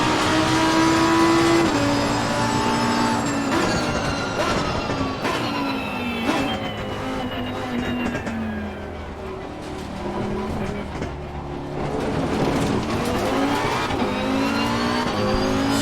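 A race car heads out on a warm-up lap at night in the Assetto Corsa Competizione video game, its engine revving loud and continuous, pitch climbing and falling through gear changes, with brief tire noise and occasional speech under it.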